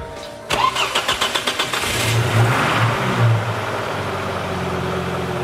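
A Volvo 850, just repaired with a new rear main seal and PCV work, cranks in a rapid even series of starter turns, catches, then settles into a steady, smooth idle close by.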